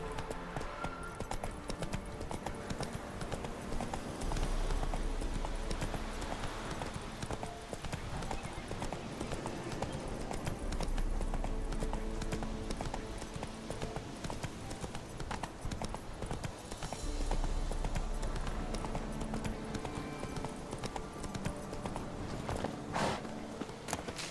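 Roach, a horse in The Witcher 3: The Wild Hunt, trots with steady clip-clop hoofbeats close by over continuous game ambience, with a brief whinny and no talking.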